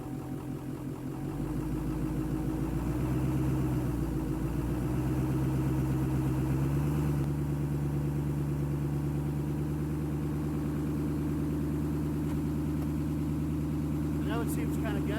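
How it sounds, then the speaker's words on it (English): A truck engine idles steadily at a raised, high-idle speed, a constant mid-pitched drone with a slight rise early on, heard close with no talk over it. "now we got to put it in high idle"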